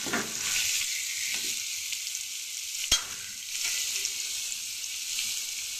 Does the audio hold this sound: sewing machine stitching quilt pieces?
no